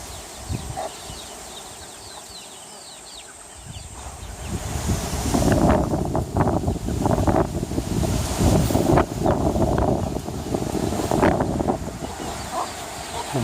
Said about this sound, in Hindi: तेज़ हवा चल रही है।